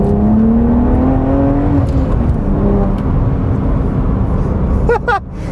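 A 2012 BMW 1 Series M Coupé accelerates hard, its engine note rising steadily and droning loudly for several seconds before easing off near the end.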